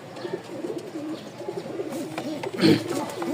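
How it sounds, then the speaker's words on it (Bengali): Three Rajshahi Giribaz pigeons coo in repeated soft, rolling phrases, close by, with some rustling and a brief louder bump near the end. "ইনশাল্লাহ পেয়ে যাবেন এখানে তিন পিচ কবুতর"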